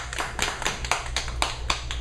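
Claps at an open mic night for a performer, a sparse series of distinct hand claps in an uneven rhythm, close and fairly loud over a low steady hum.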